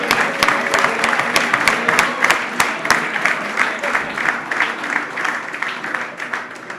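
An audience at a fraternity chapter's Founders Day gathering applauds its donors with loud, sustained clapping from many hands throughout, a dense crackle of claps with faint crowd murmur underneath.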